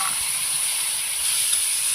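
Masala paste mixed in water poured onto frying yam and potato, producing a loud, steady, hissing sizzle close up, with no talking.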